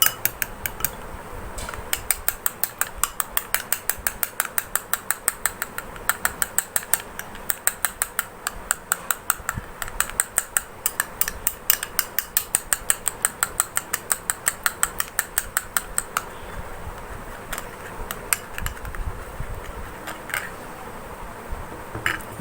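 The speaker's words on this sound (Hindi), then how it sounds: "इसको अच्छी तरह से मिक्स करके इसका हम एक" Spoon scraping and tapping against a bowl while mixing lemon juice into a skin-remedy paste, a close, rapid, regular clicking rhythm that runs steadily, then loosens near the end.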